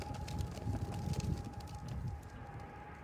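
Wind blowing outdoors and buffeting the microphone with a low, rumbling roar that stays fairly steady and close, easing slightly toward the end.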